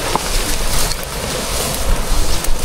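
Waves stirred up by a boat slosh and churn against the water in a dense, continuous rush, close and loud with heavy wind buffeting the microphone throughout.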